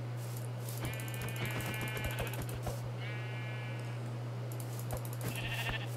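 Several sheep bleats from a Minecraft game, short nasal calls spaced over a few seconds, fairly close and clear, with light tapping clicks in between and no talk.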